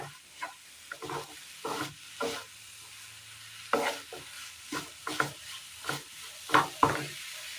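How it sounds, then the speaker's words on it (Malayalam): Thickening melted jaggery syrup stirred in a pan as its water cooks off, a soft bubbling bed broken by a dozen scraping, plopping stir strokes in an uneven rhythm. "വെല്ലം ഉരുക്കി ഒഴിച്ചതിൻ്റെ ആ വെള്ളമൊക്കെ ഒന്ന് വറ്റി വരുന്നുണ്ട്"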